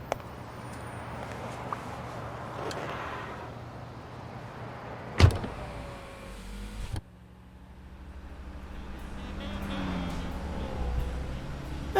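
Car interior sounds from the video game Blacksad: Under The Skin, a steady low engine rumble with a sharp door-like thunk, a brief cut to quiet, then the drone returning, with no talk.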